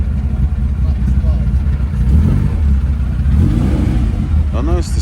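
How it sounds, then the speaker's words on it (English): A TVR straight-six engine revs at a classic car and bike breakfast meet, its loud, rumbling tone running steadily through the whole stretch while people talk nearby. "Oh no, it's the 6-cylinder, the straight 6. Still sounding good though."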